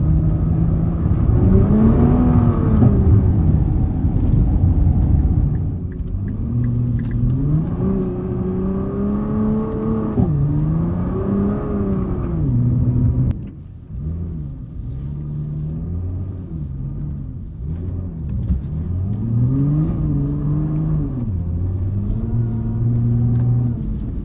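A 2021 Nissan GT-R Premium drives on winter roads, its engine a steady low rumble heard from inside the cabin. The drone rises and falls gently with throttle, with no talking.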